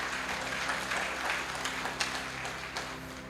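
Congregation applauding inside a church during a sermon, a steady wash of scattered clapping with a few sharper claps standing out, set against a constant low hum.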